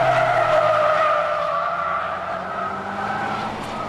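Honda Integra Type R race car on a circuit during an endurance battle, tires skidding in a steady, loud squeal with engine drone underneath, continuous for several seconds and easing slightly toward the end.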